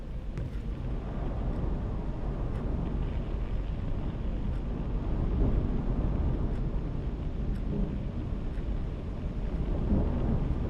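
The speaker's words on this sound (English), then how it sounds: "Reports say we haven't had a storm this bad in a long time." A thunderstorm in the video game WILL: Follow The Light brings a heavy continuous roar of rain and wind with deep rumbling and a few faint sharp ticks, steady and loud throughout with no talking.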